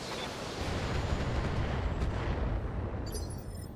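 A volley of LRM missiles launches at battle armor in the BattleTech video game, a loud, sustained roaring barrage of rumbling blasts with no talk over it.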